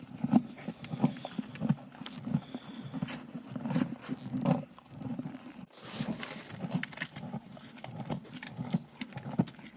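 Horses in a stable in a new yard, giving low rumbling snorts and breathy noises, with scattered shuffling and knocking sounds around them, fairly close and at moderate volume, with no talking.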